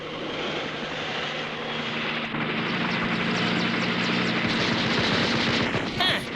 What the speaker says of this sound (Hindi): जेट हेलीकॉप्टर्स, इतनी हिम्मत इनकी